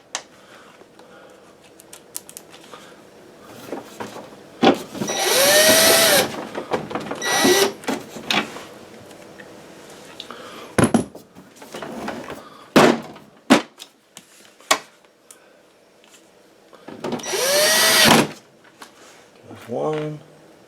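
Power drill driving screws back into a Hisense dehumidifier during blower replacement, several short whirring bursts separated by pauses, with handling clatter and someone talking in between.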